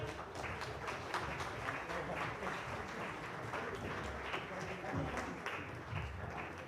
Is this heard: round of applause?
yes